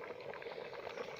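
Rice pudding (payesh) bubbles in a pot on the stove, a faint, steady simmering burble heard briefly and close, with no speech.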